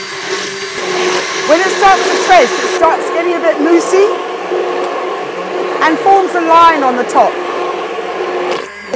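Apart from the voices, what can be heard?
hand blender mixing olive oil and caustic soda for soap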